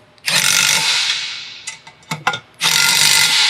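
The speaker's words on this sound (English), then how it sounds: "we're just gonna go ahead and use that socket wrench and into place" Socket wrench ratcheting a bolt on a heavy-duty square-pipe base support: bursts of rapid clicking, a long run, several short strokes, then another long run, close and fairly loud with no talk.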